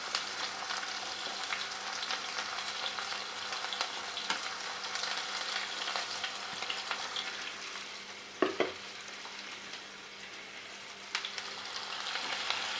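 Sliced onions fry in a pan as the base for an omelette curry gravy, with a steady close sizzle throughout and a few sharp scrapes of a stirring spoon partway through.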